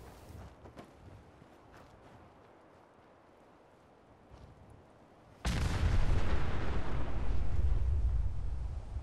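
A heavy artillery barrage in Fallout 4 erupts abruptly after several seconds of faint rumbling and scattered distant thuds, becoming a loud, sustained roar of blasts that continues to the end.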